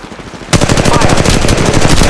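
Automatic weapon fire in Apex Legends Mobile kicks in abruptly as a loud, rapid burst of close shots in a tight, even rhythm, continuing without pause to the end.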